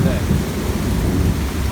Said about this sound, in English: I've never heard a thunderstorm like that